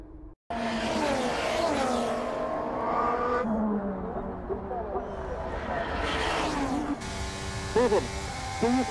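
A Formula 1 race car in the F1 23 game spins out and clips the curb: a loud engine roar with squealing, skidding tires, shifting pitch as it slides, and a commentator's excited voice over the top.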